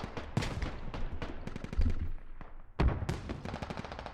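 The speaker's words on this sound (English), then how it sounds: "There's an AK other side of the wall." AK rifle fire in the video game Squad, with rapid bursts of close, sharp gunshots, a couple of heavier booming impacts and a short pause between volleys.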